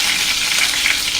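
Curry leaves dropped into hot oil crackle and sizzle in a continuous hissing burst, close and fairly loud, with no voices.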